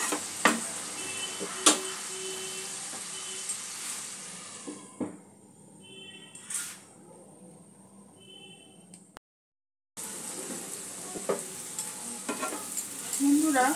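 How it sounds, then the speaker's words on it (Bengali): Potatoes, onions and cauliflower fry for a winter-vegetable katla fish dish, sizzling steadily in a pan at close range with scattered stirring clicks and scrapes. The sizzle drops out for a moment partway through and then resumes, with no one talking. "আলু পেঁয়াজ কলি সমস্ত উপকরণগুলো আমি 2-3 মিনিট ভেজে নিয়েছি"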